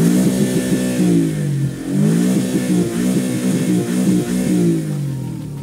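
A car engine runs loudly and is revved repeatedly, rising and falling in pitch in several swells, close and without speech.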